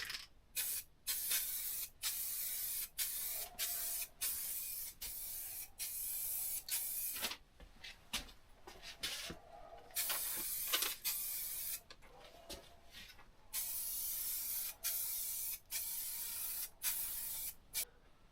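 An aerosol can sprays off-white cream RAL 9001 paint onto a vintage Dawes bike frame in repeated close hissing bursts, each about a second long and separated by short gaps, with no voices.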